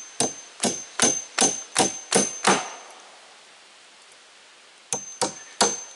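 Deck boards are nailed down with a hammer, bringing seven crisp, evenly spaced ringing blows close by, then a pause of a couple of seconds before four more strikes in the same steady rhythm.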